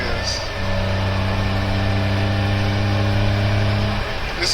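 A Honda Beat's small engine hums steadily under load while driving, a close, even tone that climbs slightly in pitch as it revs, with a voice talking over it.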